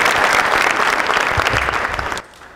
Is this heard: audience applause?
yes